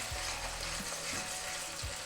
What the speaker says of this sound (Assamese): তেলটো গৰম হৈ গ'ল এতিয়া মই খাওঁ দিম পিঁয়াজ